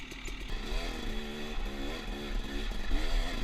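A 2018 Husqvarna TX 300 two-stroke dirt bike engine buzzes and rises and falls in pitch as it is ridden, revving up through gears in repeated waves, close and loud.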